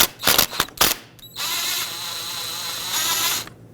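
A power tool removing a banjo bolt from the rear brake caliper of a 2015-2020 GMC Yukon whirs in a few short bursts, then runs steadily for a couple of seconds with a ratcheting mechanical drone before stopping.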